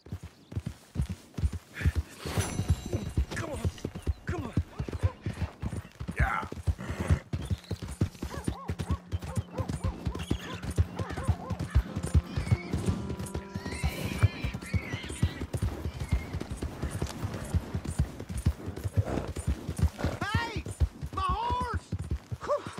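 Horse in the western game Red Dead Redemption 2 clip-clops along in a steady walking rhythm close by, with occasional neighs and whinnies and someone talking at times over the hoofbeats.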